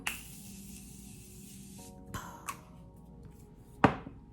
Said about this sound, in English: I want to spray with the Morphe setting spray